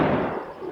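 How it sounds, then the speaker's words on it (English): Fireworks bursting in a dense, continuous crackle of overlapping pops and booms, fairly loud and steady before easing slightly toward the end, with no talk. "Fireworks."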